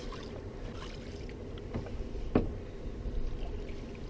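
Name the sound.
paddling a canoe with a wooden paddle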